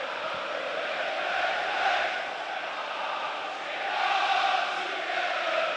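A Leeds United football crowd roars at Elland Road during a match against Swansea City, a steady loud wash of massed voices swelling and easing in waves across the stand.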